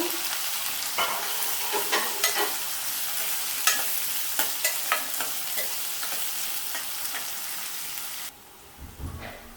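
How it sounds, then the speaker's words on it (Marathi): Onion stirred and frying in hot oil with garlic in a pan, a steady bright sizzle with repeated scraping stir strokes throughout, ending in a quieter pause with a soft clatter. "आता ह्यामध्ये मी कांदा घालते आणि कांदा पण चांगला शिजवून घेते मऊ होईपर्यंत"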